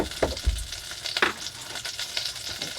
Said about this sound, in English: Here's our butter coming to a boil, so we're going to add about a tablespoon of flour